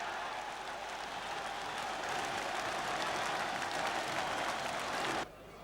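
Football crowd at a Crystal Palace or Nottingham Forest match applauding, a dense, steady wash of clapping from a large stadium audience that cuts off abruptly near the end.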